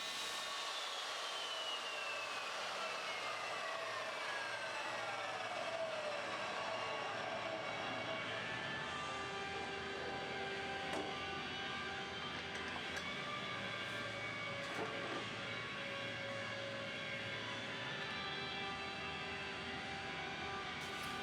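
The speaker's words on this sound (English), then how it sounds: "I'm cutting that in half" Metal-cutting mitre saw slicing through a roughly 40mm mild steel shaft, a steady, loud, continuous whine and grinding hum with a slowly shifting pitch and no speech.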